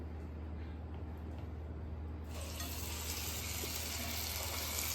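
Dahi vada batter lowered into hot oil, a steady, broad frying sizzle that swells suddenly partway through and continues loud and close under a low background hum.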